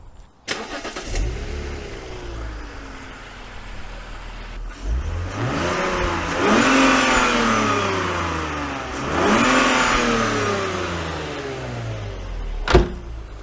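A BMW Z4 with its noise pipe removed starts up and then revs twice, each rev rising sharply and sinking back slowly as the revs hang, loud and close with no talking.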